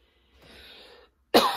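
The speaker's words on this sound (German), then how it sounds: "Und mein Husten geht wieder los." One sharp cough bursts out close to the mic at the end, after a faint, breathy rustle and near silence.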